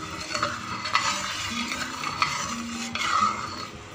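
A spoon stirs milk and sugar syrup in a pan over low flame, giving soft repeated scraping and faint sizzling with a few light metal clinks at a close, quiet level.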